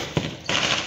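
A Diwali firecracker going off in a village celebration: a sharp close crack, then a second louder burst that fizzes and hisses for a moment afterward.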